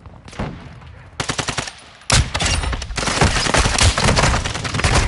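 Rapid automatic gunfire from the video game Warzone 2 in online Invasion mode on Modern Warfare II, loud sustained bursts with a short pause before heavier continuous firing.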